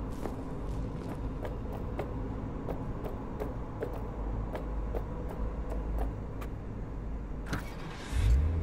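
Car engine from Cyberpunk 2077 driving gameplay hums steadily and evenly through the whole stretch, with regular light ticks over it and a louder low rumble near the end, with no talk.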